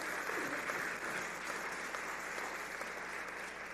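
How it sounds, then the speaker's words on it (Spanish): A young church congregation applauds steadily and loudly throughout, a dense continuous wash of clapping with no pauses. "Dese un aplauso, jóvenes"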